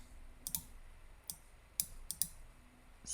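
Sharp mouse clicks in a quiet room, several single and paired taps spread unevenly, including a quick double click, with faint background hiss and no speech.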